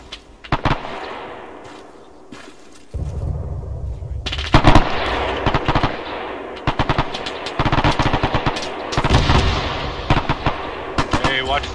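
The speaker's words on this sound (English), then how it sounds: "I just heard some shots from over there" Rapid bursts of automatic rifle and machine-gun fire from the military video game Arma 3, loud close cracks mixed with distant rattling volleys, continuing in uneven clusters throughout.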